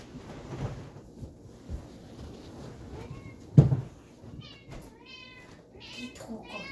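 A pet cat meows several times indoors, short rising calls near the end, while someone speaks softly in a hushed ASMR setting with small handling noises.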